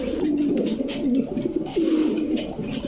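Several pigeons at a pigeon farm shop selling Giribaj racer pigeons coo close by, with soft overlapping, rolling coos running steadily throughout and no talking.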